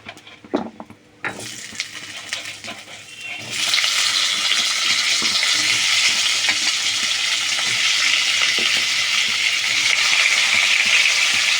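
New potatoes dropped into a hot pan of oil for a sarputi fish curry: a few soft clatters, then a loud, steady sizzle of frying that fills the rest of the clip.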